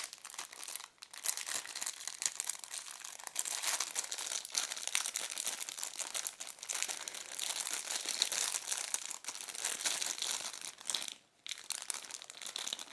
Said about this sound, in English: I know this rustling noise might be quite distracting for some of you guys